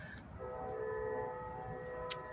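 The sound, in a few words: train whistle blowing as train comes around the bend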